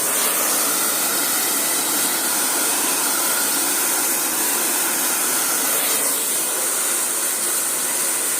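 A hair dryer blows loudly and continuously while drying hair, a steady broadband rushing hiss close by with no break for the whole stretch.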